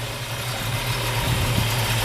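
A 1965 Ford Mustang convertible's V8 idles steadily nearby, a low, even rumble with a slight lope that holds constant throughout, no voices over it.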